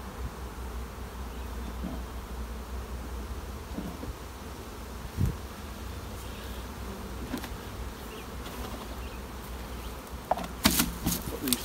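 Honey bees hum steadily around managed hive colonies in an apiary being rebalanced, a dense, moderately faint buzz that fills the whole stretch, with a few louder bumps and knocks near the end.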